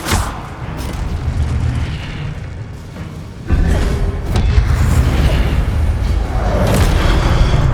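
Fiery spell blasts in the Hogwarts Legacy video game erupt as heavy booming whooshes, one sustained burst followed by a louder one midway, both close and dense.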